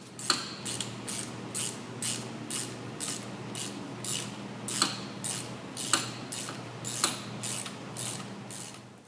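Ratchet clicking steadily as hub bearing bolts are removed from a 2004 Buick LeSabre front wheel hub, with repeated short bursts of pawl clicks and creaks at a close, moderate level, no talking.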